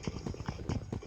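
Horse hooves clip-clopping in the video game Minecraft, a quick close run of even hoofbeats.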